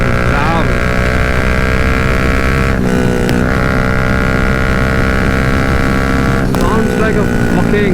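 A Bajaj Dominar 400 motorcycle with a loud aftermarket exhaust rumbles close by, a heavy sustained drone with a brief dip in the middle and steady high intensity throughout.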